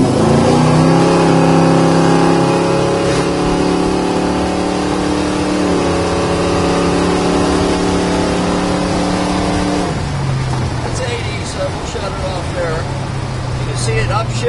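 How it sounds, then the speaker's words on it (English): A 1969 Dodge Charger fitted with Flowmaster exhaust accelerates on a road, its deep engine rumble climbing steadily in pitch before an audible shift, heard loud and close from inside the car. "it's got a nice deep rumble to it"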